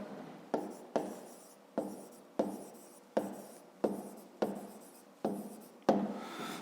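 A pen writes on paper during a fifth-grade math exercise, a string of regular scratchy strokes repeating about every second, close and quiet with no talk.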